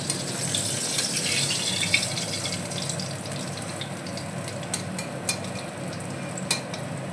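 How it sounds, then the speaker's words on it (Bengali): Bhola fish frying in hot oil gives a steady, close sizzle that holds at an even level throughout, with a few small pops and spatters. "আমার মাছ ভাজা হয়ে গেছে এবার আমি নামিয়ে দেবো"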